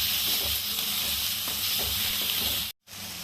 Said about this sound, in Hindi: उसी कढ़ाई में हम डाल देते हैं। इसको फ्राई कर लेते हैं।